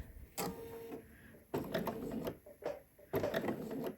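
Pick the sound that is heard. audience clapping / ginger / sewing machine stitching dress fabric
sewing machine stitching dress fabric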